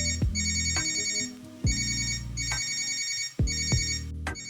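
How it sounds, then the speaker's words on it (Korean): A mobile phone ringtone sounds loud and close, a melodic electronic tone that repeats in three cycles of roughly 1.6 seconds each, with a sharp chirp at the start of each cycle and sustained tonal notes between them. "한참 난잠에 빠져있는데 전화벨 소리가 그녀를 깨웠다."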